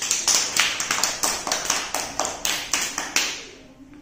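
Children in a first-grade Telugu class clap together in a quick, fairly steady burst of about a dozen claps, close and lively, fading out at the end.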